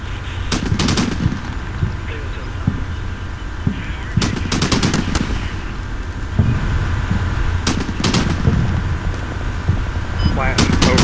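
Artillery barrages and rapid gunfire in the modern-warfare game Combat Mission: Shock Force, with repeated sharp explosive bursts over a steady rumbling battle background, loud and close.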